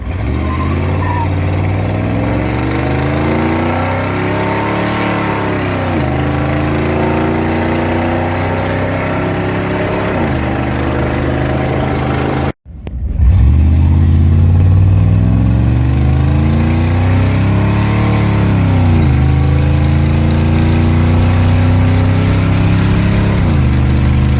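Chevrolet Silverado truck engine fitted with Flowtech headers runs loud and close with steady harmonic drone, rising and falling revs, a brief cut near the middle, then resuming strongly at part throttle.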